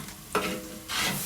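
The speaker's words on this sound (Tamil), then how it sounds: "கரெக்டாக ஒரு 1 நிமிஷம் நம்ம லைட்டாக வதக்கிட்டு அப்புறம் வத்தப்பொடி சேர்த்துடலாம்" Ginger garlic paste sautés in a large pot for an 8 kg chicken biryani: a low, steady sizzle broken by two quick, close stirring scrapes.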